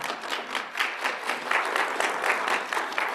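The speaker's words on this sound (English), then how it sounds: "Can we give a big round of applause to Dr." An audience gives a round of applause for Dr. Hirama after a talk on fruit trees, dense and fairly loud clapping that swells in waves and holds steady for the whole stretch.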